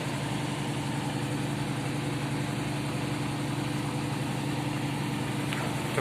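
Dongfeng 304 tractor diesel engine idling, a steady low rumble with an even throbbing hum throughout, close and unbroken.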